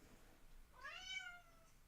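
A cat gives a single rising, drawn-out meow at moderate distance against a faint background hiss, with no talking.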